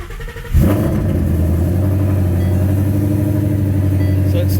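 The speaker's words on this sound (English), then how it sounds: "So it starts up with a normal idle, and you'll hear it transition into the Ghost Cam." A Ford Coyote V8 Mustang with a Ghost Cam tune cranks and fires after a brief pause, then settles into a loud, steady, close-up idle with a deep rumble.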